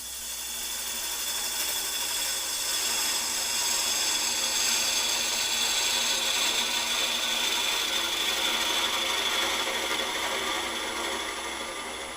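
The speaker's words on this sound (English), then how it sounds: "Right, got my skew here, let's flatten this off." A skew chisel flattens a spinning wooden Easter egg on a lathe turning at about 700 rpm, giving a steady, close, bright scraping hiss that holds evenly for the whole stretch with no voices.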